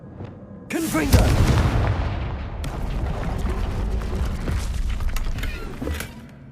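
A Confringo spell explodes in Hogwarts Legacy with a sudden loud booming blast that rolls into a long crackling, rumbling tail of debris and echoing impacts, ending in smaller crunching hits.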